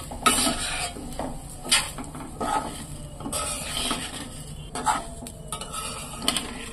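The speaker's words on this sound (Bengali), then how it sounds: "এবার আমি তেলটার মধ্যে চালগুলো নেড়ে নিচ্ছি তেলের মধ্যে, তেল আর পেঁয়াজের মধ্যে।" Rice being stirred in oil and onions in a pan, with scraping spoon strokes and clinks against the pan over a faint sizzle, close and moderately quiet, no voices.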